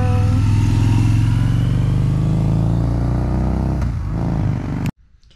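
Close, loud rumble of a 2004 Harley-Davidson V-Rod engine, steady at first, then easing and shifting before cutting off abruptly near the end, leaving near silence.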